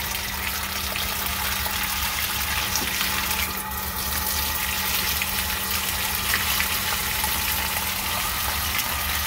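Hot water gushing in a solid, steady stream from a tap inside a converted bus during an arctic cold snap, a continuous loud rushing hiss with no talk.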